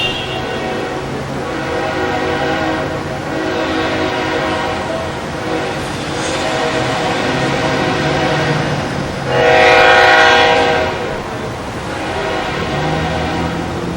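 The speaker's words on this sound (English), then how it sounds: "you can never have enough train action" Passing train with its horn blowing, steady rumble and clatter of rail cars throughout, the horn sounding in long tones and swelling loudest near the end, with no talking.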